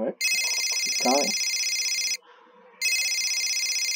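Telephone ringing loudly in repeated electronic bursts, with a short gap between rings, while voices talk briefly over the start.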